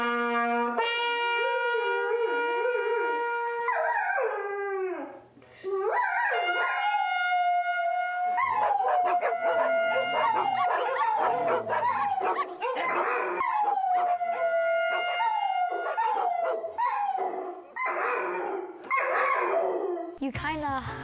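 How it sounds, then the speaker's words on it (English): Several neighborhood dogs howl together in a long, wavering chorus of overlapping rising and falling tones, loud and sustained with brief breaks, mixed with scattered yips and barks. "So we have this crazy cacophony of howling dogs."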